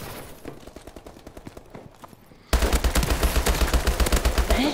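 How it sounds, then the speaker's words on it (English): Explosive sniper rifle shots and dense gunfire in the video game Call of Duty Advanced Warfare: a rapid, steady train of sharp bursts, moderate at first, then abruptly much louder and heavier for the second half. "He shot me with an explosive."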